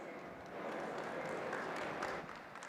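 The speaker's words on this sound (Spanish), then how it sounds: "Por favor, recibamos con un fuerte aplauso a Eduardo." A conference audience gives quiet applause to welcome a speaker named Eduardo. The clapping is faint and distant, swells briefly in the middle and then fades.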